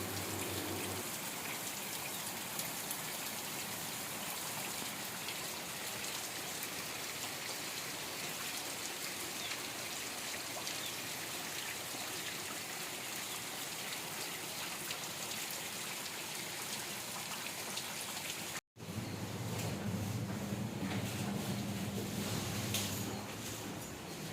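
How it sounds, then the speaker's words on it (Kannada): Heavy rain falls steadily in a dense, loud, unbroken hiss, cut off by one brief dropout before resuming. "ಸಿಕ್ಕಾಪಟ್ಟೆ ಮಳೆ ಇದೆ"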